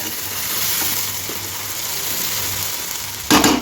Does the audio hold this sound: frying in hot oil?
yes